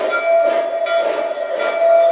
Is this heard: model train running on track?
yes